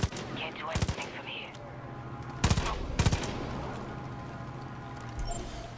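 Gunfire in the Far Cry 5 video game: scattered bursts of shots around one, two and a half and three seconds, over a steady background rumble of game ambience.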